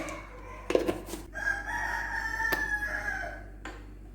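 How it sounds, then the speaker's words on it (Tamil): A rooster crows nearby in one long drawn-out call while cooking is underway, surrounded by a few clinks of kitchen pots and utensils. "நான் சமைக்க ஆரம்பித்தேன்னாவே என் சேவல் வந்துடுங்க"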